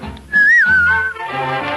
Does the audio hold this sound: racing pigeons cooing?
no